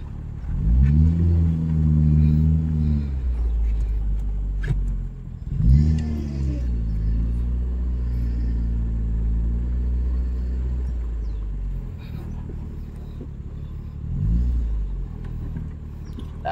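A Proton Wira fitted with a turbocharged 4G15T engine revs hard twice from a low idle rumble, each climb rising and holding before dropping back, then settles into a steady driving drone with one shorter rev near the end.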